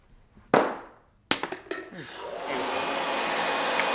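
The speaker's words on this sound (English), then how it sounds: "How about a hair dryer?" A hair dryer switches on and blows steadily, a loud continuous whoosh, after a few sharp knocks and clatters at the start.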